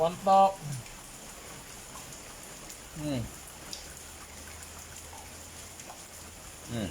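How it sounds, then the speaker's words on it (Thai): Heavy rain pours steadily outdoors at a temple, a dense continuous hiss that fills the whole stretch, with a few brief voices and thumps breaking through near the start and middle. "ฝนตก"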